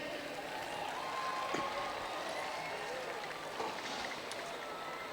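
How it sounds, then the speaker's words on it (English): A crowd at the Sydney Royal woodchopping and sawing competition cheers and claps for the Kiwi team in the men's international relay, a dense, steady roar heard from within the audience. "Let's hear a big cheer once again for the Kiwis."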